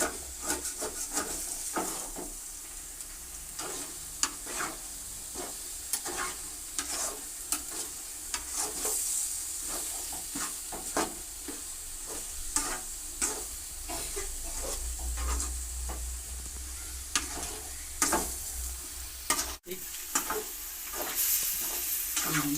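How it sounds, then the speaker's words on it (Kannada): Kuri mutton dish frying and sizzling in a pan while being stirred steadily, with a continuous hiss broken by frequent scraping and clacking strokes of the spoon, close up and with no talking. "ತಿರುಗ್ತಾನೆ ಇರಬೇಕು ತಳ ಹಿಡಿಬಿಡ್ಬೋದು"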